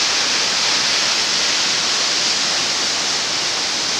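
A waterfall in a gorge roars below a bridge as a steady, dense, loud rush of falling water that stays unbroken throughout, with no voices.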